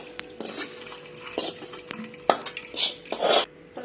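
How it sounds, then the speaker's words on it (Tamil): Cooked seeralam is moved into a vessel with utensils, giving close, irregular scraping, clinks and knocks of spoon against pots. "பாத்திரத்தில் எடுத்து மாற்றிக்கலாம்."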